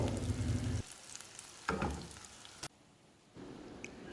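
Green chillies sauté lightly in oil in a pan for an Andhra chilli chicken curry. A close, soft sizzle comes and goes in bursts, fading to near quiet in the gaps.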